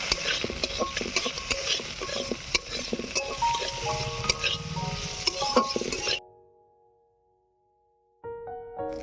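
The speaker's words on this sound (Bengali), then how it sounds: "ঘি দিয়ে দিয়েছি কাজু কিশমিশগুলো হালকা করে ভেজে নেব" Cashews and raisins frying in ghee, a busy close sizzle with utensil clinks and stirring scrapes for about six seconds, then near silence before faint clinking returns.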